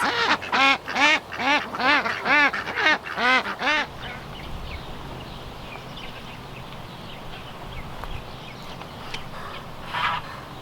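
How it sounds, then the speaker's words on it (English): A flock of ducks foraging in a garden quacks loudly in a rapid, overlapping burst for several seconds, then falls away to quiet outdoor rustling with a faint call near the end. "now the ducks are just going to do what they do and take down the grass"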